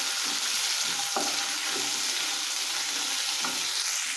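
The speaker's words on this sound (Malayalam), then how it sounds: "തേങ്ങാക്കൊത്തൊക്കെ ഒരുവിധം മൂത്തിട്ടു." Coconut pieces fry in a pan for a clam fry, giving a steady, close, dense sizzle that runs the whole time, with a couple of soft stirring scrapes.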